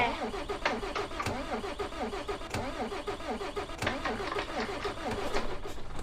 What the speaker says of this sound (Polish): O, wreszcie gruchot odpalił.